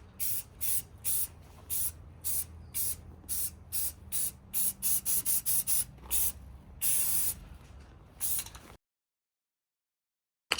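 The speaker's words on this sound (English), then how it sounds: "first up is the 1 coat of light coat primer" An aerosol primer can sprays a light first coat onto V6 Camaro brake calipers in short repeated bursts of hiss. The pauses between bursts are uneven, some bursts run closer together, a longer spray comes near the end, then it goes quiet.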